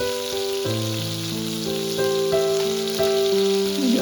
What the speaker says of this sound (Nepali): अब यसमा अदुवा लसुन राखेर एकैछिन भुट्ने।